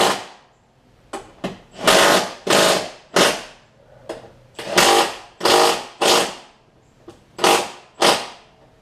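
Impact gun removing 14 mm top suspension bolts on a 2002 Toyota Camry: about a dozen loud, close, sharp bursts in irregular succession, separated by short quiet gaps.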